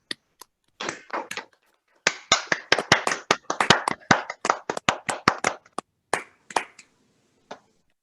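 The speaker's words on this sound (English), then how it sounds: "Please unmute yourselves to join me in a round of applause." Scattered claps from a few people on a virtual annual meeting call, sharp separate hand claps in an uneven rhythm that thicken briefly in the middle and thin out to single taps near the end.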